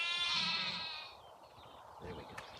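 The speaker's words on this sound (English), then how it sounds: "Come on, let's hear some grand sheep." Irish sheep bleating outdoors, one clear, wavering bleat up close followed by fainter ones, with soft background noise.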